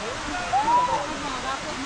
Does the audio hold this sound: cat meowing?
no